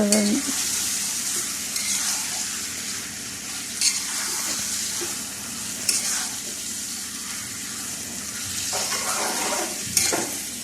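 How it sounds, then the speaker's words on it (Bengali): Chicken pieces sautéing in a pan, a continuous close hiss of frying with several sharp clinks and scrapes of stirring spaced through it, no voices. "আপনারা চেষ্টা করবেন মাংসটা ভালোভাবে কষে নেওয়ার জন্য"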